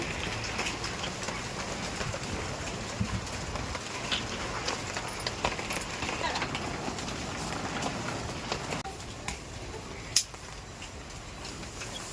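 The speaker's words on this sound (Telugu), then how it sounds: "చెట్టు కింద ఉండడం వల్ల పెద్ద పెద్దగా కూడా చినుకులు పడుతున్నాయి" A steady patter of raindrops falls from a tree nearby, with a few louder, larger drops landing now and then.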